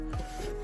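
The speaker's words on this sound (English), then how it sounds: "I'm gonna sand this down so it's along the same plane." Wood on a DIY birdhouse is hand-sanded with short rasping rubs, two or three quick strokes close by and fairly quiet, with no talking.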